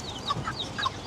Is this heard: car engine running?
no